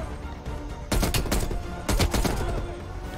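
Gunfire in the shooter game Black Ops Cold War: two loud bursts of rapid automatic shots, each lasting about a second, with a quieter stretch of game noise before and between them.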